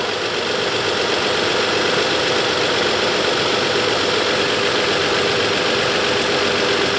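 A car engine idles steadily and close, a dense continuous rumble with a rough mechanical rattle, unchanging throughout with no voices.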